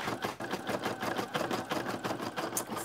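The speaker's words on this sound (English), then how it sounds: "We are almost done stitching." A Brother PE770 embroidery machine stitches an appliqué baby bib, giving a steady, rapid mechanical chatter of needle strokes that runs continuously at close range with no talk over it.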